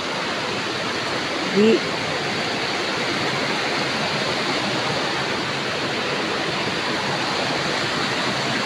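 A river stream flows steadily with a constant, loud rushing of water, joined briefly by a short voice near the start.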